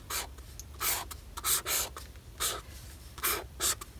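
A Faber-Castell 1.5 artist pen scratches across paper in short bursts of strokes, close and fairly quiet, with brief pauses between each mark.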